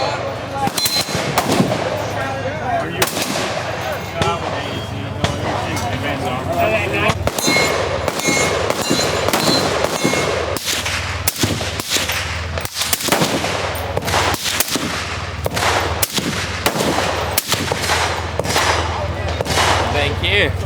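Guns fire at a Palmetto State Armory booth during a shooting event, a dense, loud run of rapid gunshots with sharp repeated cracks and short bursts across the whole stretch, close by.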